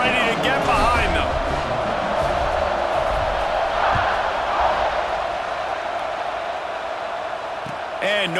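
Stadium crowd in the EA Sports College Football 26 video game as teams line up for a kickoff, a steady, loud roar of cheering that holds throughout, with a commentator's voice over it.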